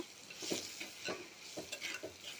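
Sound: stirring tomato with chili and coriander powder in pan

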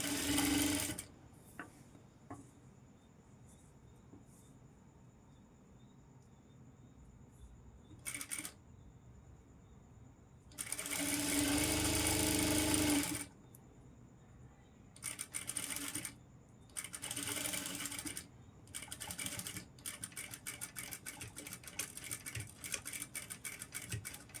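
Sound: sewing machine stitching a saree fall

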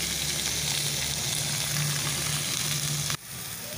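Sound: fish pieces frying in oil on banana leaf

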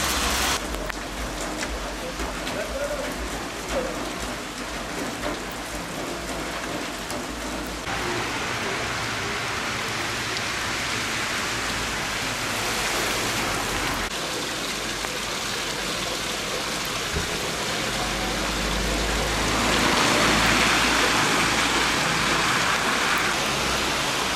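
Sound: heavy rain falling

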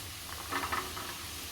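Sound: potatoes and peanuts frying in ghee

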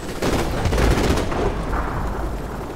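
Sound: gunfire from Call of Duty 4 Modern Warfare Remastered video game

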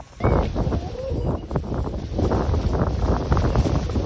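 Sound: wind and rain on a mountain

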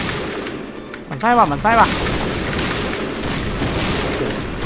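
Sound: gunfire in a zombie video game

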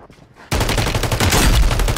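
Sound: gunfire in video game Call of Duty MW3

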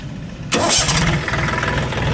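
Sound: tractor engine starting

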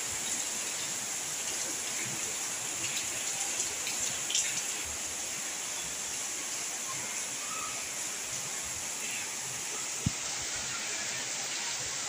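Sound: heavy rain falling in village

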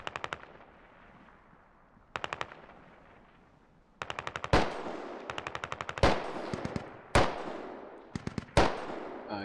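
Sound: gunfire exchange in video game Squad

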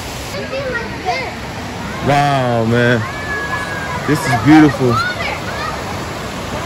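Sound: waterfall in Atlanta

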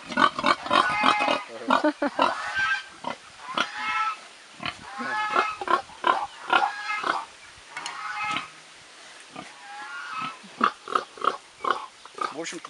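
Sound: pig lying on a farm

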